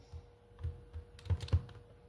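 A faulty computer keyboard being typed on during a Minecraft survival game, giving a few scattered, close clicks and thumps with two sharper key strikes standing out.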